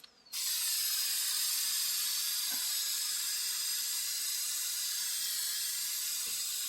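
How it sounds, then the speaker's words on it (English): Rust treatment is sprayed inside a truck during a backyard rust repair, heard as a steady, close, loud aerosol hiss that starts abruptly and runs on without a break. "I'll just spray the inside here a bit,"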